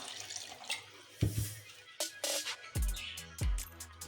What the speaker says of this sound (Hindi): अब हम इसमें ये नीम गर्म पानी शामिल कर देंगे।